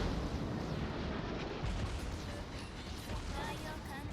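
Heavy battleship main guns firing armour-piercing shells in World of Warships produce a dense, sustained low rumble and roar with no clear gaps.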